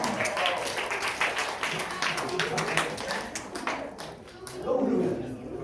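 An audience at a science lecture claps in a quick run of hand claps while a speaker's voice carries over and after them.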